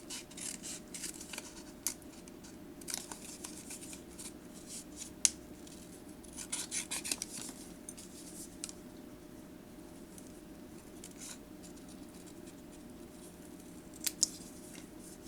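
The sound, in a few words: trimming paper with scissors for journaling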